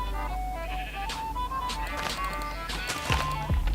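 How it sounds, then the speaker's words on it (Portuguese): Sheep bleat repeatedly in a blocky survival-crafting video game, several wavering game-sound cries over a steady low background drone with soft clicks and footsteps. "Agora vamos matar essas ovelhas malditas."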